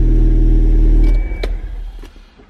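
A Toyota Supra engine, freshly fitted with an Odyssey battery, fires instantly and settles: a loud, deep rumble held for about a second, then dropping off into a quieter, uneven idle with light clicks.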